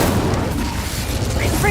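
The Incendio fire spell from Hogwarts Legacy roars as a dense, loud burst of crackling, booming fire that holds steady through the moment, with a voice briefly heard around it.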